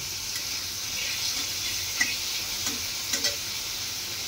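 Onion and tomatoes frying in oil with mustard seeds for a chickpea curry, a steady hiss of sizzling with a few light stirring taps, close and fairly even.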